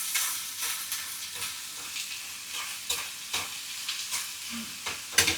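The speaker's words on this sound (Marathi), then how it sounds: "प्रॉपर गुलाबी होईपर्यंत तो फ्राय करायचा." Fish fries in a hot pan with oil, a steady soft sizzle and crackle punctuated by occasional sharp pops and spatters, close and moderately quiet with no talking.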